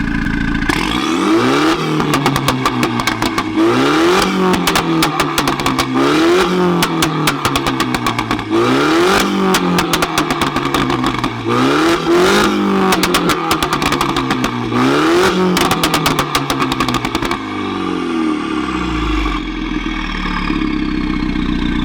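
A loud Stage 2 Mini exhaust with a pumpkin touching it revs hard again and again in a repeating rhythm, roaring and crackling up close before easing off to a lower idle.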